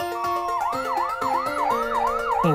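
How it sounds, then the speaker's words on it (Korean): Fire truck siren in a children's song, a loud wailing tone that rises and falls in quick repeated sweeps over steady musical backing, with no talking. "이거는 뭐요? 사이렌 사이렌 이에요."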